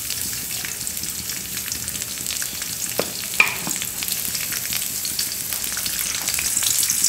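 Chopped onion and garlic fry in fresh soybean oil for a beef liver bhuna, giving a steady, close hiss of sizzling. A few faint clicks and scrapes rise above it, and no one speaks.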